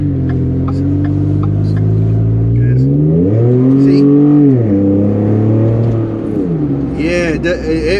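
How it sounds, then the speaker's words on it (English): A loud Ford F-150 EcoBoost pickup engine, fitted with a cold air intake and aftermarket exhaust, idles and revs up and down, pitch rising and falling with a throaty roar close to the microphone. "the truck as a whole sounds a little louder"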